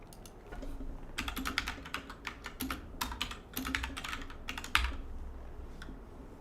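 Keys on a computer keyboard are tapped in quick bursts of sharp, close clicks with short pauses between runs, over a faint room hum and with no voices.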